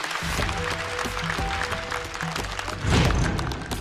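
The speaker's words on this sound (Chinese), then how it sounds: "再次掌声送给步惊云" Studio audience at a stand-up comedy show applauds in a steady, continuous patter beneath tonal background music, swelling slightly toward the end.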